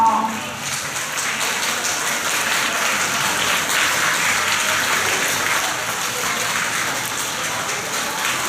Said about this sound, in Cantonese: 請大家一次過俾掌聲兩位獲獎嘅同學